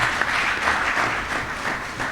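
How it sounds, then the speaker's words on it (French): Steady audience applause at a launch ceremony at Dakar city hall, a continuous, fairly loud wash of many hands clapping with no distinct beats. "Je pense qu'elle mérite des applaudissements pour ça."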